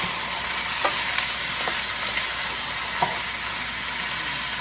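Chicken pieces frying in hot oil in a pan, a steady loud sizzle with a few faint clinks, and no voices.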